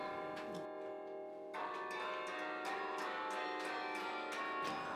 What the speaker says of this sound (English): whenever I strike a handle, the clapper is pulled over against the bell